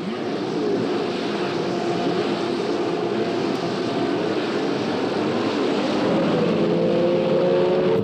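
Formula One racing cars, including Graham Hill's Lotus 49 and Repco Brabhams, leaving the start of the British Grand Prix, a loud continuous roar of engines with rising whining tones as the field accelerates away.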